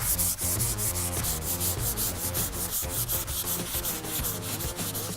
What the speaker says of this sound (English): I'm going to use my 220 grit sandpaper that I had on my random orbit sander.